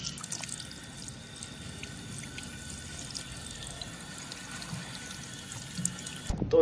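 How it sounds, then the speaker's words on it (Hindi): Hot water running steadily from a tap during hair washing in a bathroom, a continuous even splashing pour with faint drips, fairly quiet and unbroken, no voices. "बाल तो धोते हुए गर्म पानी आ रहा है"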